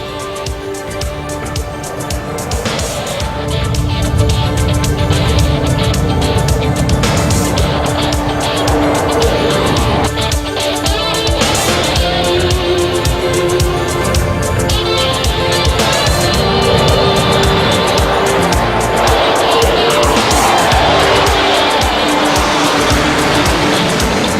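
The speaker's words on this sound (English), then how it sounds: "An AWACS takes off." A large AWACS military aircraft takes off with a loud, sustained jet engine roar that builds over the first few seconds and then holds steady and close, with no voices.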